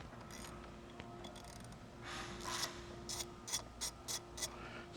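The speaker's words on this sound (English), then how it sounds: "So we have a 10mm socket to remove the negative terminal" A 10mm socket ratchet loosening the negative battery terminal on a Nissan Frontier D41, with a faint rubbing start and then a series of short, quiet ratchet clicks in a steady rhythm.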